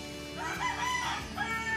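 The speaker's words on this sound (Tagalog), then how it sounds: "Sinig yung itim na manok" A chicken crows once from a roof where it shelters during flooding, giving a drawn-out call of moderate loudness over a busy background of water and ambient noise.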